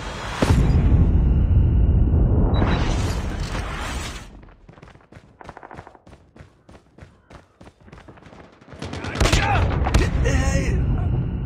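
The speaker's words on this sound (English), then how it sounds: "hostile predator missile inbound" A predator missile strike in the Call of Duty video game opens with a loud blast and rushing roar. A quieter stretch of rapid clicks and pops follows, then another heavy burst of explosive noise.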